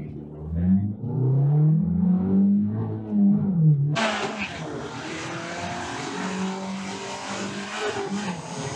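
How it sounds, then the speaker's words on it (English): Someone talks, then a stock Smart car's engine roars loudly up close at a drag strip, accelerating hard with a broad rushing whine that holds steady for several seconds. "There's a fucking smart car drag racing."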